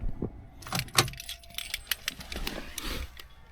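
A car key on its ring jangles and clicks as it goes into the ignition, a quick run of close metallic rattles with no talk.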